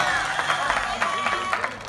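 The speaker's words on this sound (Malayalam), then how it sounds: "ഒന്ന് ഉഷാറായിട്ട് കൈയടിച്ചാൽ അടിപൊളിയായിട്ട്" Audience clapping at a Malayalam Mappilappattu stage show, a steady wash of applause with crowd noise and rhythmic clap bursts, heard alongside singing or a voice on stage.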